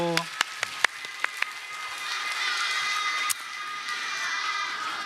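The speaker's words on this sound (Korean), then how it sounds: "박수 한번 쳐주세요" A church congregation at a Sunday morning service claps, first a handful of separate sharp claps, then a soft, steady patter of applause mixed with murmuring and children's voices.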